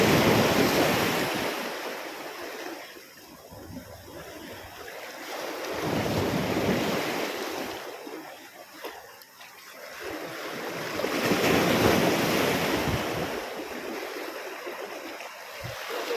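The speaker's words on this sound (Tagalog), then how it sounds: "Mahangin guys." Strong wind and surf at a coastal fishing spot at a river mouth in Ternate, Cavite, with waves swelling and crashing in slow surges about every five seconds and heavy wind buffeting the microphone between them.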